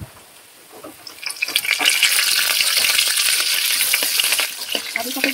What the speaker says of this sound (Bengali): এবার দেখুন এই তেলটাতে আমি একটু কারি পাতা দিয়ে দেবো।